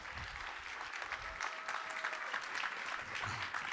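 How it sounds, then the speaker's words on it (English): An audience applauds a speaker taking the stage at a deep tech event, a steady wash of clapping held at a moderate level throughout. "A round of applause."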